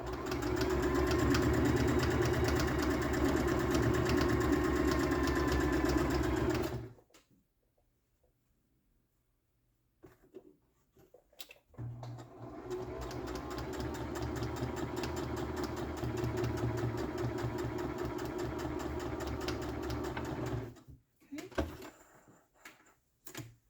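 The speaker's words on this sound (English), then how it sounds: "I like to do about another 1/8 of an inch stitch on this" Home sewing machine stitching a beginner's tote bag, running in a steady motorized burst for several seconds, stopping briefly, then running again for a longer stretch before halting.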